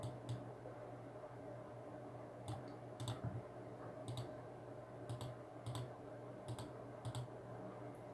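Sharp computer mouse clicks sound while electronics simulation software runs on a PC, a dozen or so light, quick taps in small clusters, faint over a steady hum and room noise, with no talking.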